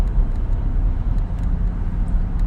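Road traffic rumbles continuously from inside a car, a steady low drone of engines and tyres with no speech.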